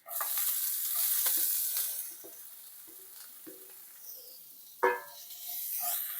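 Onions sauté in a pan with ginger, garlic and curry leaves, a close sizzle that is loudest at first and then settles into softer frying with occasional stirring scrapes and one sharp clack.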